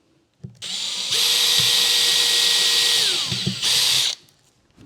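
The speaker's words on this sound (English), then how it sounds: "so we'll drill one first" A power drill whirs up, spins at a high steady pitch for a few seconds, pauses briefly, then revs again before stopping, with light clunks underneath.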